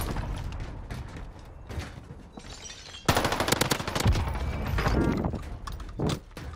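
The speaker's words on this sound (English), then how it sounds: "He's outside, he's shooting at us." Enemy gunfire in a first-person shooter game, including a C58 rifle, bursts out in rapid automatic volleys that grow louder and denser midway, with a few sharper single shots between them.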